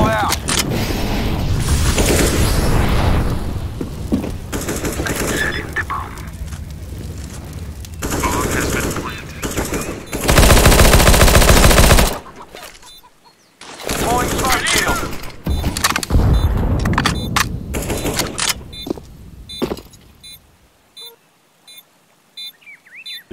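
P90 and other rifle fire in a Counter-Strike match on the Inferno map: loud bursts of automatic shots and dense volleys come close and hard, separated by brief pauses and mechanical clicks, ending in quiet.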